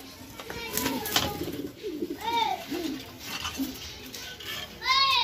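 Racing pigeons coo in a loft, giving low rolling calls in several separate bursts, close by, with faint background voices of people and children.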